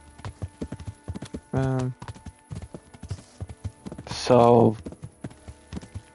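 Horse hooves clip-clop at a riding pace in the video game Kingdom Come: Deliverance, a close, regular beat of hoofbeats with two loud whinnies. Someone says a few words over it.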